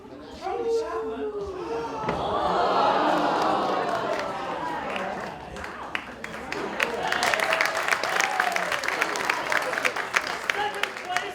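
Theatre audience applauding for a second-place finisher at a live improv show, a moderately loud wash of clapping that dips and rises again, with scattered thumps and a voice speaking over it.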